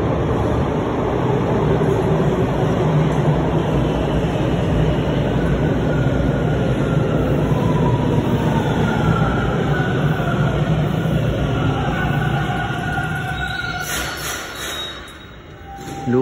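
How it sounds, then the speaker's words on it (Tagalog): Toronto TTC subway train at Keele station, a loud continuous rumble and rattle of wheels and cars passing close by, with faint squeals, fading near the end. "Yung train na papuntang downtown."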